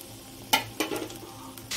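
Flower pakoras made with sadabahar blossoms fry in hot oil, giving a soft steady sizzle broken by a few sharp crackles and stirring scrapes, close and fairly quiet, with no voices.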